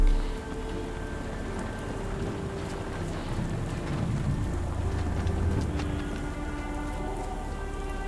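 Steady rain pours down in a Victorian-era detective game, a dense continuous wash of drops on surfaces with a faint low rumble like distant thunder, no voices.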